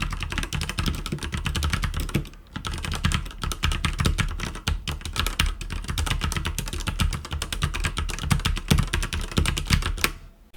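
Continuous fast typing on an Abko K590 mechanical keyboard with red switches, dense keystrokes heard up close for several seconds, with a brief pause partway through.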